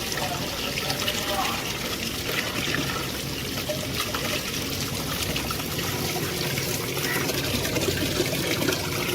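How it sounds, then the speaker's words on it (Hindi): Water runs steadily into a container as it is filled for mixing a jaggery drink for goats, a continuous trickling and splashing wash that stays even and close throughout. "इसको पानी के साथ फिल कर लेना है"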